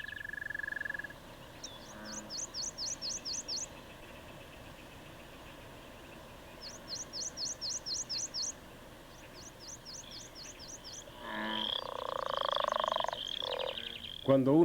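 Toads trill in short, rapid pulsing bursts that repeat several times at moderate distance against quiet night ambience, before a louder rumbling noise swells near the end.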